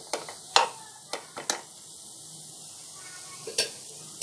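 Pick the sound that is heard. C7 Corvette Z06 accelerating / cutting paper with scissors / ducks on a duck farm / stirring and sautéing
stirring and sautéing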